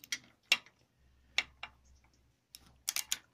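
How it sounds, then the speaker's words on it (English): A torque wrench on Pro-Point 3500 lb trailer jack bolts gives sharp, separate clicks, a handful spread out and then a quick cluster, close and quiet with no voices. "you can hear it. My wrench is clicking."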